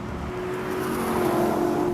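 2005 Ford GT mid-engined two-seat sports car, a loud steady engine drone with a clear held tone that builds slightly in strength and stays close throughout.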